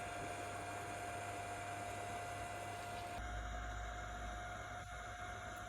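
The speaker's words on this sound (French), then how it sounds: "on peut constater que l'imprimante est quand même relativement bruyante. Le ventilateur on l'entend assez bien." An Elegoo Mars 3 Pro resin 3D printer's cooling fan runs with a steady whirring hum and a faint tonal whine, continuous and close, shifting slightly in tone partway through.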